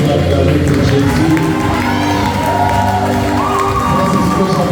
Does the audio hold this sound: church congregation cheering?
yes